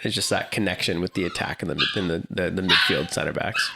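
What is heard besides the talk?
loud dog barking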